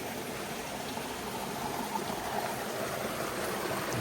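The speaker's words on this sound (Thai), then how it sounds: "มีน้ำไหลผ่านกลาง" A stream flows continuously over rocks in green forest, a soft, even rushing and bubbling with no voices, steady from start to finish.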